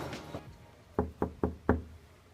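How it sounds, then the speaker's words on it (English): Four firm, evenly spaced knocks land on a house door while canvassing on polling day in Islington North. They are close and clear against quiet surroundings. "Just knocked on someone's door and they wouldn't answer."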